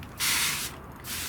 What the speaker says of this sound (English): Now then, I'm going to spray